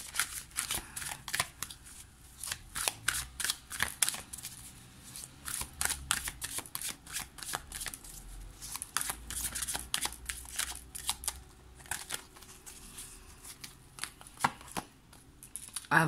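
Playing cards, slightly stuck together from the heat, are shuffled repeatedly at close range, with crisp riffling bursts and taps in an irregular rhythm and nobody speaking.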